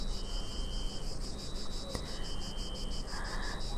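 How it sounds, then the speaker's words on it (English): A male cicada's song rendered as an insect sound effect, a dense, continuous shrill buzzing with steady pulsing that fills the whole stretch, loud and close, with no voices over it. "the song of the cicada being limited to the male"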